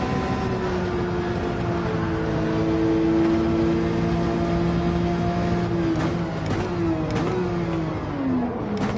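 Porsche racing engine in Gran Turismo 7 droning at high revs, with a steady pitch that dips and climbs as the car shifts and brakes, loud and continuous with no talk.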